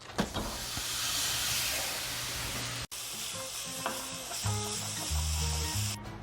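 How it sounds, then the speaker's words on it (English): Ground beef browns in a hot pan with a steady, close hiss of frying, broken by a few clinks and scrapes of stirring and a brief sharp knock partway through. "So brown your beef."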